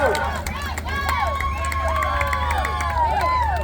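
Spectators at a county fair human tractor pull cheer and shout loudly and continuously, a dense crowd roar packed with overlapping whoops and children's voices, close and sustained throughout.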